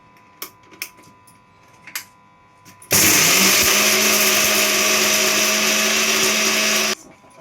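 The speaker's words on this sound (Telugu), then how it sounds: "అన్నీ బాగా మిక్సీ పట్టుకోవాలండి." A mixer grinder purees fresh raw turmeric root, ginger and other ingredients into a fine spice paste, switching on abruptly into a loud, steady, high whirring roar that runs about four seconds and cuts off. Scattered soft clicks and knocks come before it.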